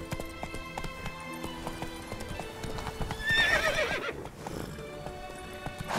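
A horse gallops in The Witcher 3 video game: a rapid, rhythmic clip-clop of hooves, fairly close, with a loud neigh rising midway and no talk.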